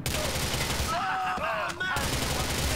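Heavy gunfire in Grand Theft Auto IV, loud continuous bursts of shots that cut out briefly midway, leaving quieter sounds, then resume at full force.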